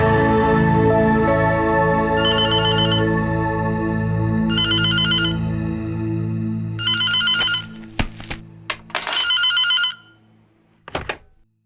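A telephone rings in repeated bursts of a trilling electronic tone over a steady background music bed, several rings in a row, fairly loud and close, with no one talking.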